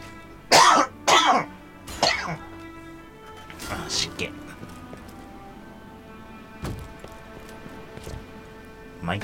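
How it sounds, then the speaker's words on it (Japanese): Several sharp coughs and throat clears come in a quick cluster, then scattered fainter ones follow, close and dry over quiet background hum from a Borderlands 2 game session. "毎回咳してばっかですけどね。"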